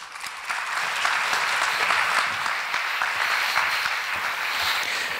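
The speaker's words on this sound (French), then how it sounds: "Mesdames et messieurs, une bonne main d'applaudissements pour M. Marc Perron." An audience applauds a speaker at a corporate event on building inclusive organizations, the dense, steady clapping rising after a brief quiet start and holding at an even level for several seconds.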